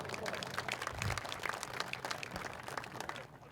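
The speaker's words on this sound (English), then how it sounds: "Give yourself a hand of applause." A crowd of several hundred at an outdoor May Day protest rally for workers' rights applauds itself, with sharp, scattered claps over a continuous bed of applause and voices mixed in.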